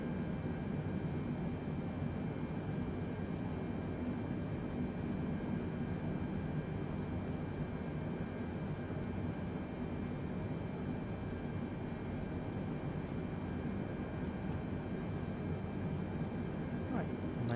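A Boeing 747-8i in Microsoft Flight Simulator on approach to runway 22 left at New York JFK, giving a steady broadband engine and airflow roar with constant low rumble, unbroken throughout, with a few faint clicks near the end.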